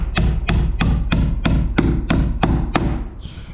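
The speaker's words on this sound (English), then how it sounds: "I just purchased this framing hammer" A framing hammer drives a nail in a garage framing build, nine loud, evenly spaced metallic strikes in quick succession, close and ringing, followed by a brief scrape at the end.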